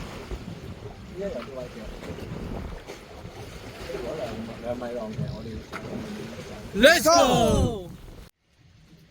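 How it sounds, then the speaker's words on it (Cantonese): Strong wind and rough sea waves around a kayak paddling off the Hong Kong coast: steady rushing wind and water noise throughout, with people talking over it and a loud burst of shouting near the end. "個風浪咧真係好大"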